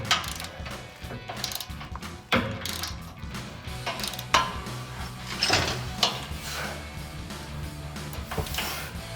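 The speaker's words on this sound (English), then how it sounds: "I'm going to tighten the lower ones with my torque wrench." A torque wrench tightens the lower bolts of an AR pre-runner grille guard in matte black on a 2007-2021 Toyota Tundra, giving a run of close, uneven ratcheting clicks and metallic knocks without talk.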